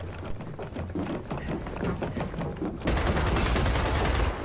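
Gunfire in the video game Gears of War 4 Horde mode rattles in dense rapid bursts, with a louder, harsher volley of shots breaking out near the end, no speech.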